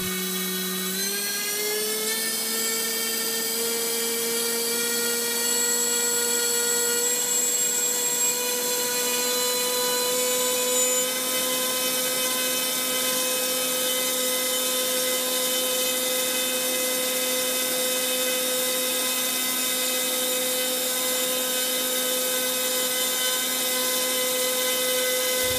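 An electric RC motor runs steadily at higher throttle, a loud, constant high-pitched whine that rises in pitch at first and then holds level for the rest of the run, with no talk.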